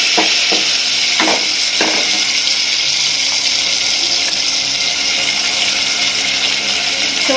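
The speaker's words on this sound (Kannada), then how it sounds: "ಇವಾಗ ನಾನು ಡೈರೆಕ್ಟ್ ಟೊಮೆಟೊ ಹಾಕ್ತಾ ಇದ್ದೇನೆ, ನೀರುಳ್ಳಿ ಹಾಕ್ತಾ ಇಲ್ಲ." Peeled tomatoes dropped straight into a hot Indian tempering sizzle loudly and steadily in a pan, with a few sharp clatters of stirring early on and no talking.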